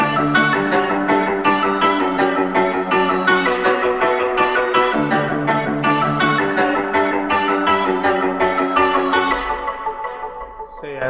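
An FL Studio beat with a funk chord one-shot run through delay, a bright repeating chord stab pattern over steady drums, loud and continuous, fading slightly at the end.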